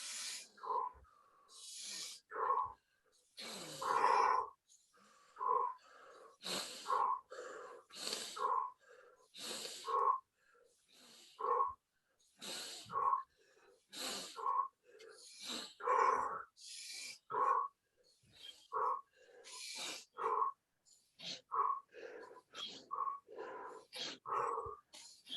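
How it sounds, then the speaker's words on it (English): Fast, forceful rhythmic breaths during a rapid breathing exercise, each sharp inhale and exhale repeating in quick succession for the whole stretch, loud and close with no talking. "Now double the rate of your breathing."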